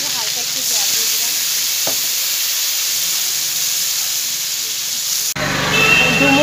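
A spice mixture fries loudly in a pan for a Bengali fig curry, a bright continuous sizzle that shifts abruptly into a rougher, bubbling hiss when a splash of water goes in.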